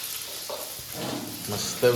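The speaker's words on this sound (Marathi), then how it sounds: "इकडे आता लास्ट पापलेट आहे फ्राय होतं" Pomfret fish frying in a village kitchen at a fish fry party, a soft continuous sizzle with faint stirring sounds, brief and fairly quiet.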